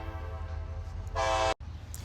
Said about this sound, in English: The train was coming, and I didn't want y'all to not hear me with the sound of the train and stuff coming.